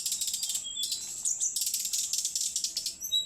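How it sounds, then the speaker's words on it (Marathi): Bursts of sparrow chirping sound close by, in quick repeated high notes with one brief pause partway through, and no talking. "तर चिमणी आता ओरडत आहे बघा."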